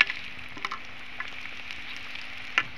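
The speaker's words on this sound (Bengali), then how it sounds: "আমার রোজগুলো আমি ভেজে নিচ্ছি" Rose-shaped snacks frying in oil in a pan give off a steady sizzling hiss, with a few sharper pops and crackles rising above it. No one speaks.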